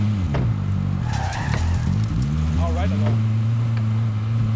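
A car driven in Call of Duty Warzone, with a loud continuous engine drone that shifts pitch as it accelerates, brief tire squeal, and players talking over it.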